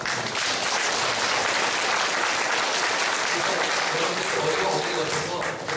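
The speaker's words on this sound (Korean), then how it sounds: "박수 한번 부탁드립니다" Conference audience applause at the closing ceremony of BioKorea 2014, a loud, continuous roar of many hands clapping without pause, with some crowd murmur mixed in.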